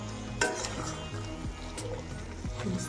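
A spoon stirs dry chole masala mixed with milk cream in a pan, with soft scraping strokes repeated about once a second over a quiet, gentle sizzle.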